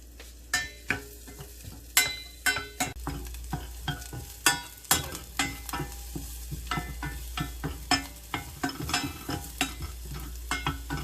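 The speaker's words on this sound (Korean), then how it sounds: "이렇게 마가린 녹는 거 보시면서 마늘을 넣도록 하겠습니다." Garlic sizzles steadily in melted margarine in a pot while a utensil stirs and taps repeatedly, close and fairly quiet.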